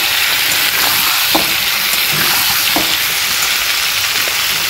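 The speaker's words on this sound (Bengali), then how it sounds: "নুন হলুদ দিয়ে ভালো করে আমি ভাজা ভাজা মতো করে নেবো আলুগুলো" Potato pieces frying in a wok with salt and turmeric give a loud, continuous close sizzle and hiss, with occasional stirring scrapes and no talking.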